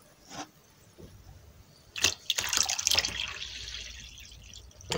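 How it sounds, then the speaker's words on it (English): Distilled water poured into an acid solution for dissolving solder, a quiet trickle that swells into a louder, steady splashing pour after a few brief drips, with no talking. "So I'm adding a bunch of distilled water."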